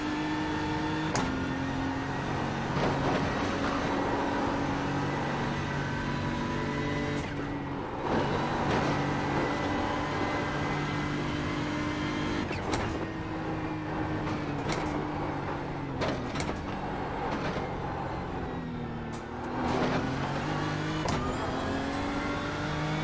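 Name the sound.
race car engine driving at Bathurst 12 Hour race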